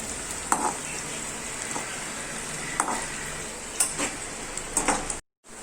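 Cashew nuts stirred and frying in a pan over a medium flame, a continuous close sizzle broken by several sharp scrapes and clicks of a spoon, cutting off abruptly at the end.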